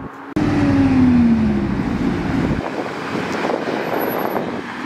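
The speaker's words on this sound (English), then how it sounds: "Tesla Model Plaid acceleration." A Tesla Model S Plaid roars off hard from a standstill, a rising electric whine sweeping past and fading into the distance amid wind noise.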